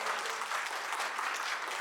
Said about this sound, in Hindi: तो ताली बजाइए। बजाइए।